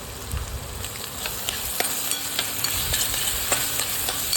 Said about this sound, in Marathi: तेल सुटेपर्यंत चांगलं भाजून घेऊया.